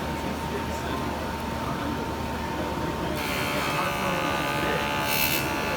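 A JOOLTOOL rotary tool hums steadily as it buffs and polishes the sides of a Breitling watch clasp. Its continuous whine grows brighter and harsher partway through as the polishing pad presses against the metal.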